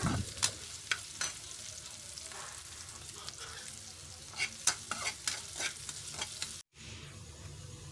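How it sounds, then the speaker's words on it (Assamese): Onion, green chili and curry leaves fry in oil in a kadai, giving a soft continuous sizzle punctuated by frequent sharp clinks of a ladle stirring against the pan, close, with a brief dropout near the end. "এতিয়া কেৰাহীত তেল দি পিঁয়াজ, জলকীয়া, নৰসিংহৰ পাত দি ধুনীয়াকৈ ফ্ৰাই কৰি লৈ ল'ম"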